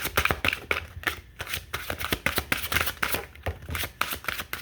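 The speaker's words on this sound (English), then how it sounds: "These cards are almost bigger than my head, and I can barely shuffle these things properly." Large tarot cards being shuffled by hand, a rapid run of crisp riffling flicks and slaps close up, continuing steadily with no voices.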